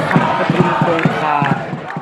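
Patumkongka school football supporters cheer as a crowd, with rhythmic drum-like thumps and massed voices chanting steadily at close range, fairly loud throughout.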